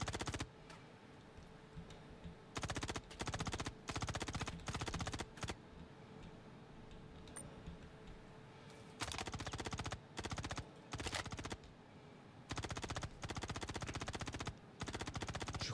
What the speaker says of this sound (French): ce sont les snipers qui nous tirent dessus